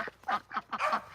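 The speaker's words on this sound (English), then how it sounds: "Let's show you guys the new ducks too while we're at it." Several newly arrived ducks or geese give a run of four loud, nasal honking quacks close by, in quick uneven succession with short gaps between calls.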